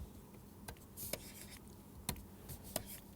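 Chalk or marker strokes on a board during a mathematics lecture on least squares, heard as a few scattered taps and short scratchy strokes over a quiet room hum.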